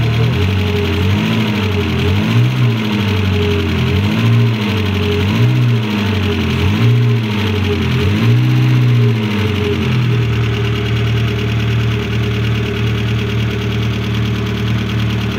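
A Peugeot 205 1.4i 75 hp engine close up revs repeatedly in rising and falling swells to warm up, then settles into a steady idle hum.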